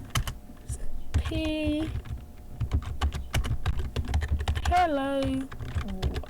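Someone types on a computer keyboard with quick, close clicks and key taps in steady bursts, while a voice speaks briefly over it.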